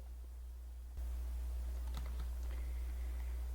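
Keys tapped on a computer keyboard while coding a web page, with a short run of faint clicks and one firmer press for the Enter key. A steady low hum sits underneath.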